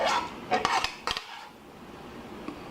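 A utensil scrapes and clinks against a skillet as ground meat is cleared out, a few sharp metallic scrapes early, then quieter light rustling.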